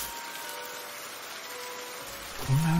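Steady rain falling at night outside a mountain cave in an anime horror story, a soft continuous hiss with faint tonal hums and a low swell rising near the end.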